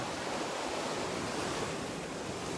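Ocean surf washes steadily onto the shore, a constant broad hiss and roar of waves, close and moderately loud with no voices.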